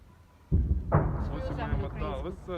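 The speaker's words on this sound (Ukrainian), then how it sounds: "Ви щойно це чули важка артилерія" A heavy artillery blast in Bakhmut lands as a sudden loud low boom and rumbles on while someone talks over it.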